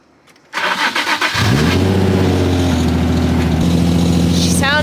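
A car engine cranks over with a few quick chugs, then catches and settles into a loud, rough idle with a slight revving edge, suggesting a possible header leak. Voices are heard nearby.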